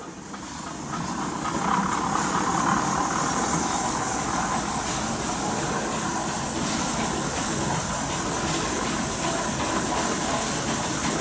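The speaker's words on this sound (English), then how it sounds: "This next engine coming up the drive, it also was made up in Richmond where the Gar Scott was made out. This is a 1911 20 horsepower Robinson and Company engine" A 1911 20 horsepower Robinson and Company steam traction engine moving in a pioneer engineers parade, a steady, broad hiss of steam with a low mechanical rumble that swells in after the first second and holds close and constant.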